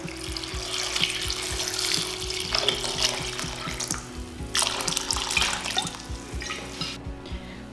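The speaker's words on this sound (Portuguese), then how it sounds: "vou completar com água" Water from a tap pours steadily into a pot holding carrots, leek, onion and celery for vegetable broth, splashing and gurgling. The flow cuts off and resumes once, then trails off with drips near the end. Nobody talks.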